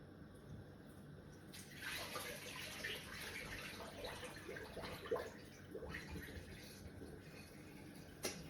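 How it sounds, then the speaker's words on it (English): Water runs steadily from a tap, splashing over great northern beans being rinsed in cold water, with faint rattling and shifting in the stream. "Rinsing those in cold water"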